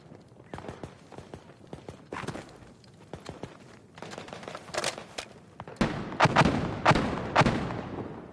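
Gunfire aimed at a burned-out tank in Battlefield 2042, heard as irregular sharp shots and heavy booming blasts that grow louder and denser toward the end, with no talk over them.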